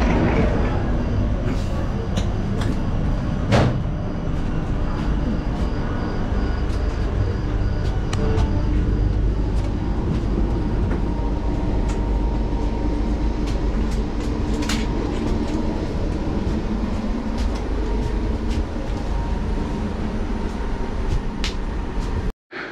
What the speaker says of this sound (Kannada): ಬೆಂಗಳೂರಿಂದ ಸಾಗರ್ ಅಂದರೆ ನೀನಾಸಂಗೆ ಹೊರಟಿದ್ದೀನಿ ಟ್ರೈನ್ ಒಳಗೆ.